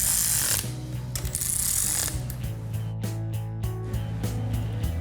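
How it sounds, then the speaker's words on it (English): A ratchet wrench tightens bolts on a purple Plymouth Cuda, making rapid clicking ratchet strokes in short bursts over a steady mechanical hum, close and fairly loud. "We'll just run these down a little bit with the wrench."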